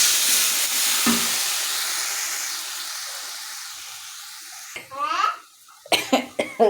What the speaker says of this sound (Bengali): তো আমার কাশি পাচ্ছিল বলে আমি আর কথা বলতে পারছিলাম না